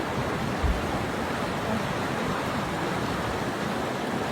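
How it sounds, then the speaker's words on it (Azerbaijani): Icy mountain river water rushes steadily, a dense continuous roar of flowing water heard close and loud without pause or voices. "Dağlardan gəlir də su, buz bulaqlar."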